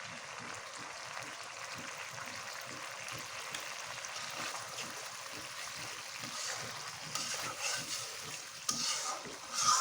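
Garam masala paste being stirred into a spicy egg curry frying in a pan: quiet, rhythmic scraping strokes over a low sizzle, growing a little louder with clattering toward the end.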